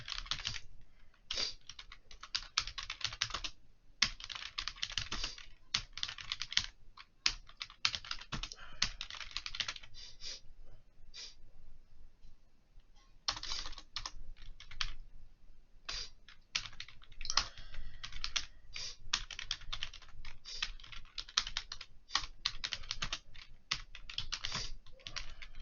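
Steady, quick keyboard typing while writing CSS code on a computer, soft and close, with rapid key clicks running nearly continuously and only brief pauses.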